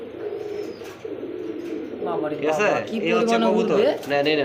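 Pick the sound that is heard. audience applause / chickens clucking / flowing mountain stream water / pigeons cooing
pigeons cooing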